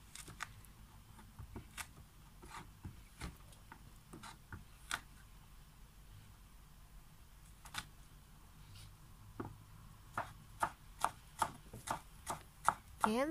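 Garlic cloves chopped on a cutting board, a series of quiet, sharp knife taps, sparse at first and then quicker and louder in a steady rhythm near the end, with nobody talking.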